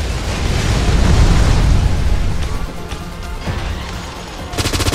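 Heavy gunfire and explosive booms from the PC shooter Snowbreak: Containment Zone, loud and dense in the first half, then easing into scattered shots, with a rapid automatic burst near the end.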